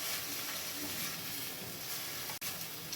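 Chopped tomatoes and onion sizzling in a pan while being stirred, a steady close hiss of frying with a brief clatter near the end.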